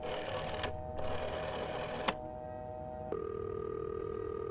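A telephone rings in the horror video game This Bed We Made. It is a steady electronic ringing tone with brief breaks, shifting to a different pitch partway through, moderately loud and with no voices.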